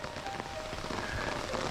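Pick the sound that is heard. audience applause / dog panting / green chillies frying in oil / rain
rain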